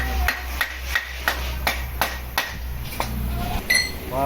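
Sharp metallic hammer blows strike about a dozen times in a steady rhythm, close by, fitting a rear sprocket onto a three-wheeled cycle, over a low constant hum.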